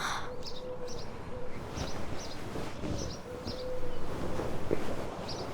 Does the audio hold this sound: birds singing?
yes